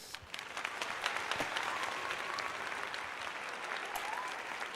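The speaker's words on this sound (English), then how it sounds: "I'm going to give myself a little round of applause here." A stadium crowd applauds steadily at a Phillies versus Red Sox spring training baseball game, a dense, even wash of clapping lasting throughout, with faint scattered voices and whistles in the mix.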